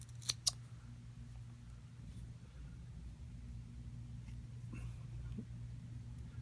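Scissors trimming excess bulk off a Golden Gotcha bonefish fly at the tying vise: two quick, crisp snips right at the start, then only a faint low room hum.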